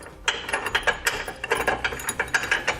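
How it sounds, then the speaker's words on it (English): Metallic ratcheting clicks from a wrench tightening a bolt on a Roadmaster Direct-Connect base plate kit on a 2017 vehicle, a steady run of quick close clicks with no talk. "We're going to bolt this right back into that spot that we just removed our bolt."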